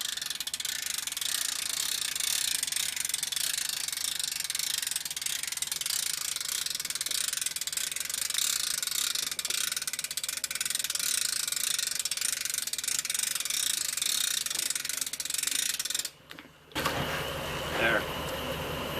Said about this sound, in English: I can just start cranking it in